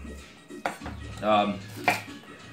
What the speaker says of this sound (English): So we're just going to chop up our onion.